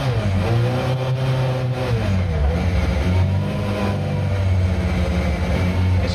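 A Lancia Rally 037 Group B restomod built to FIA historic rally standards accelerates hard down a muddy gravel road, its engine revving and climbing loudly up close with no talk over it.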